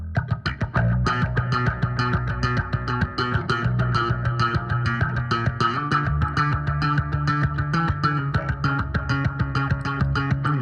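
Bass run through a phaser, then a Microshift stereo chorus and delay, playing a steady driven line within a dense full band mix for about ten seconds, loud and continuous.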